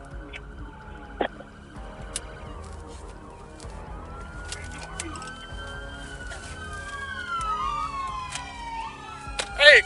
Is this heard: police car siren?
yes